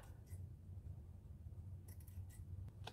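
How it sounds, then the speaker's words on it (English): Scissors snip paper for a journal cover in a few quick, faint cuts near the end over a low steady hum. "I'm going to cut it a little bit bigger so I can then see, and then trim it closer."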